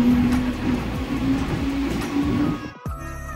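Passenger train riding out from a station, a loud steady rumble with repeated rhythmic wheel clacks, cutting off abruptly near the end into quieter cabin sound.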